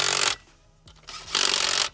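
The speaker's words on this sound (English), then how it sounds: "you can use a drill," A low-torque power drill tightens car wheel lug nuts, whirring in two short loud bursts separated by a brief pause, close up.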